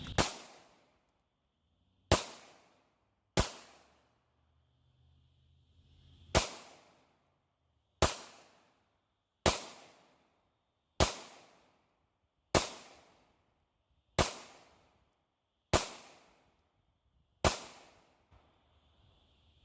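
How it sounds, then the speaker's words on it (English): Eleven sharp, loud pistol shots from a Taurus GX4 firing lead hand loads at an outdoor range, spaced about one to two seconds apart, each with a short decaying echo and quiet gaps between. "I'm going to cycle another magazine full of these lead hand loads through this Taurus to see how it does."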